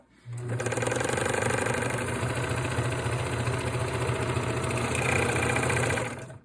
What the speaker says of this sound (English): I would do a regular wide zigzag and then go back over and do a straight stitch in the widest stitching possible